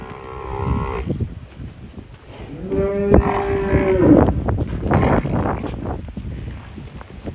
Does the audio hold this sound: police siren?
no